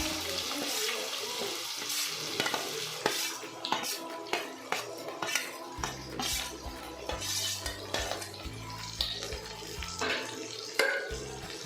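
Two large chopped onions fry with mustard seeds in a pan, a steady sizzle joined by scraping and clinks of a utensil stirring against metal, close and fairly busy throughout.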